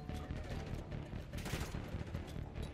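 Rapid gunfire bursts from a Black Ops 6 campaign firefight, dense and continuous with overlapping shots and explosions-like rumble throughout, loud and busy without clear pauses.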